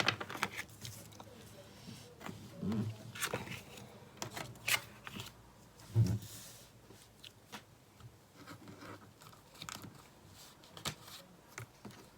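Tarot cards are shuffled and handled close by in soft papery riffles and rubs, with a few quiet voice murmurs underneath.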